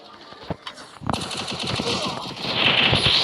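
Rapid bursts of UMP submachine gun fire in the game Counter-Strike, crackling in close, quick strings that grow denser and louder toward the end, with a few lone shots at the start.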